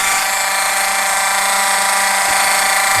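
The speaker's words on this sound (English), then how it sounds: "Let's go ahead and get that one drilled through." A power drill runs steadily through a door hinge on a 1927 Ford Flivver during body assembly, a close, continuous whine with no pauses for three seconds.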